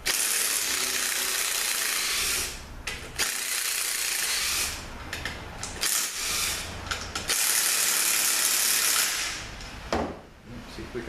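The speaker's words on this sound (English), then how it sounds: "let me just get a ratchet here. I'm just gonna break them loose real quick." Ratchet clicks in quick bursts with pauses as bellhousing bolts on a cracked A6MF2 transmission are broken loose, close-up in a workshop with steady broadband noise.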